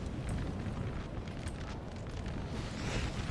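Napoleon Total War artillery fire hitting infantry at the Battle of Vitoria, 1813, a dense continuous roar of booming cannon blasts and impacts, loud and unbroken throughout, no voices.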